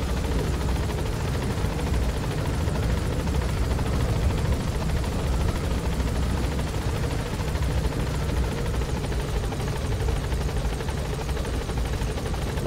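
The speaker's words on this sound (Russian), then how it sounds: "Но как-то вертолет очень странно летит." A helicopter in Metal Gear Solid V makes a continuous, loud, dense rotor and engine roar that stays steady throughout without any break.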